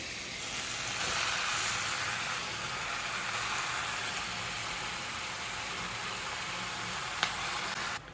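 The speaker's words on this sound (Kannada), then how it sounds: "ಇಲ್ಲಿ ತೊಳೆದಿಟ್ಕೊಂಡಿರೋಂಥ ಚಿಕನ್ ಹಾಕ್ತಾಯಿದ್ದೀನಿ" Loud, steady sizzling and hissing of chicken frying in a hot pan, continuous and close, with a single sharp clink near the end.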